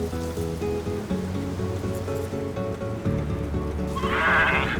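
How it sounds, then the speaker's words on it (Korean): Four goats kept on a snowy mountain ridge on Ulleungdo bleat in a repeated, harmonic pattern, fairly close, with a brighter, louder cry near the end. "산등성이 염소 4마리는 이 집에서 키우는 가축입니다."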